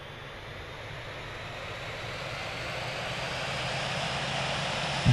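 An Airbus A320 engine spools up in the Infinite Flight simulator game, a steady broadband turbine roar with a low hum that gradually grows louder over several seconds, heard alone.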